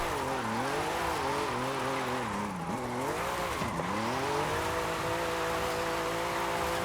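A car engine drives fast through corners in Forza Horizon 5, its pitch swooping up and down with throttle changes, with a faint tire squeal under a steady roar.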